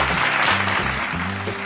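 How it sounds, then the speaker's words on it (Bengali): A studio audience on a Bengali family game show gives a short burst of applause, over low sustained musical tones. "জোরে হাততালি একটা দুর্বার জন্য"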